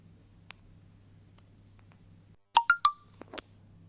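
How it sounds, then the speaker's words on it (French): Phone notification sounds ring out over quiet background hum: a few sharp, bright electronic pings in quick succession, followed by a couple of softer blips. "je suis vraiment désolée pour les bruits de fond et aussi les notifications que j'ai"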